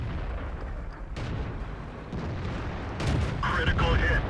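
Tank cannon fire in the World of Tanks video game, an AMX 13 57 GF battle, with loud booming shots and bursts landing over a steady rumbling game background, a heavier blast coming near the end.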